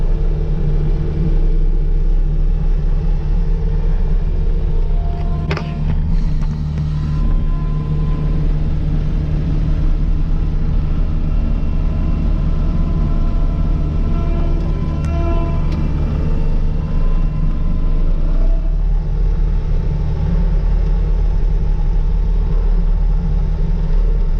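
A skid steer's diesel engine rumbles loudly and steadily at close range while it pushes plowed snow and ice after a snowstorm, with occasional scraping and clanks over the constant low drone.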